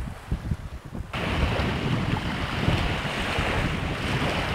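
Gulf of Mexico waves wash against the shore in a continuous, broad rush. Gusty wind buffets the microphone, loudest in the first second before the surf noise settles into a steady roar.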